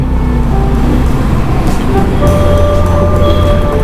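Steady, loud road traffic in Pune heard from a moving motorcycle, a dense wash of engine and road noise with passing vehicles and faint horn tones throughout, no talking.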